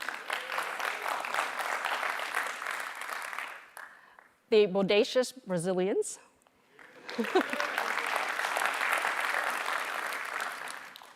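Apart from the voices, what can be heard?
audience cheering and applauding at a graduation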